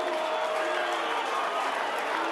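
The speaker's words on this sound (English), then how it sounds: "Crowd not happy at all." Broad, sustained roar of a displeased crowd at a 2009 SANFL football match, Sturt versus Glenelg, after a free kick; a steady, dense wash of massed voices with no break.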